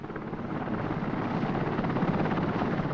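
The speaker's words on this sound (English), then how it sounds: "In this chopper, it's about 1¼ hours, 1½ if there's a headwind." A helicopter ferries offshore workers over the North Sea, its rotor and engine making a loud, steady, close-up thudding drone throughout with no talk.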